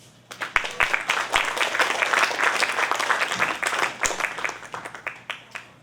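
An audience applauds at a Women in Wellness 2020 talk, dense sustained clapping swelling quickly and tapering toward the end, with scattered individual claps, close and loud.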